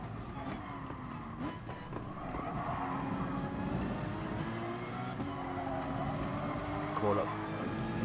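Race car engines in a touring car racing video game, running in a close pack in the slipstream, a steady loud drone with shifting pitch and brief skid-like noise, a voice talking over it throughout.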